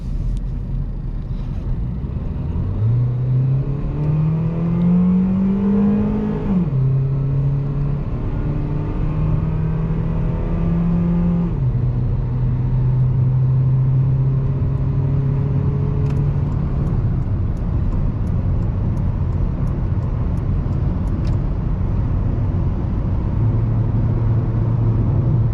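A 2006 Honda Civic LX with about 200,000 miles accelerating up a freeway on-ramp, engine note climbing through the gears with shifts, steady road and wind rumble throughout, heard from inside the cabin with no talking.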